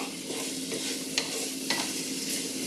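Food sizzles steadily in a hot pan as the heat is raised, with a couple of brief scraping stirs; the close, even frying hiss continues throughout with no talking.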